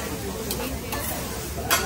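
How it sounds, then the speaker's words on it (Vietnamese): Food fries Japanese-style at a Japanese restaurant with a continuous loud sizzle, broken by a few faint clicks of utensils against the pan. "đây là chiên kiểu Nhật á"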